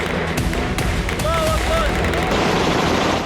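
Assault rifle gunfire in a tribal fighting zone in Syria, a dense burst of rapid shots with someone speaking over it.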